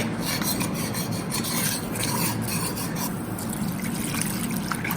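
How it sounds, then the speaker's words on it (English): Water is poured into a pan of Sindhi kadhi and stirred while it cooks, giving a continuous dense hissing sizzle with scraping and rubbing texture throughout, close and fairly loud. "then you throw in a little water and stir"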